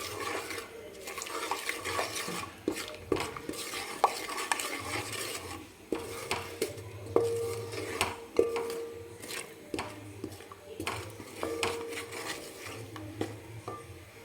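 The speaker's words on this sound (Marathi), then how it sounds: "तर चांगलं एकदम तेलामध्ये धूर निघेपर्यंत आपल्याला याच्यातून परतून घ्यायचं आहे." Chilli powder and spices stir-fry in smoking-hot oil for mutton rassa, with frequent stirring scrapes and spatula clinks against the pot over a low, fairly quiet sizzle.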